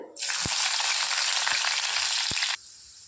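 Mustard seeds splutter in hot oil in a sudden burst of loud, close sizzling that lasts about two and a half seconds. A few distinct pops cut through before the sound drops away abruptly.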